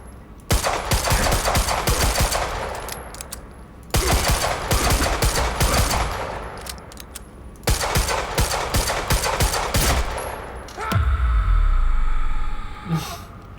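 Gunfire in the video game Quantum Break, with three long bursts of rapid automatic fire separated by short pauses, loud and close, ending in a deep rumbling blast.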